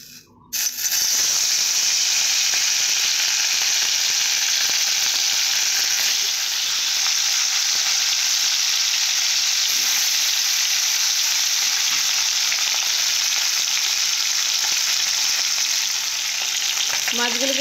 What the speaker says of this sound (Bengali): সরষের তেল দিয়েছি, দিয়ে ভালো করে মাছগুলো ভেজে নেব